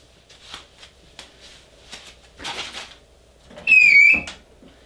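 A sharp, high-pitched mechanical squeal from an unoiled machine rings out for about half a second after several soft shuffling and rustling noises, like a dry part grinding.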